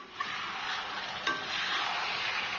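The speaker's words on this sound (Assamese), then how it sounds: "অলপ দেৰি ভাজি হোৱাৰ পিছত আলুকেইপিচ মই দি দিছোঁ।" Potatoes and tomatoes fry in a pan, a steady close sizzle with faint scraping stirs and a soft clink partway through.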